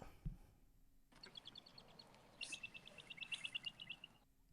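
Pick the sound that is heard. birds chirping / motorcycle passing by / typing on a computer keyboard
birds chirping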